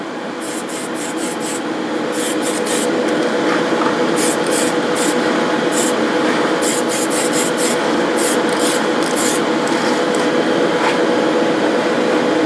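A can of Tamiya TS13 gloss clear spray paint hisses steadily and loudly over a model kit, one continuous close-up spray lasting many seconds.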